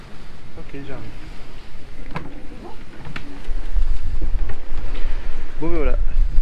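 Wind buffets a sailboat at sea, rumbling microphone gusts that swell louder in the second half, with people speaking intermittently over the roar.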